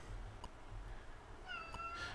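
A cat named Patty meows once, thin and wavering, fairly close, over a low background hum with a faint earlier chirp.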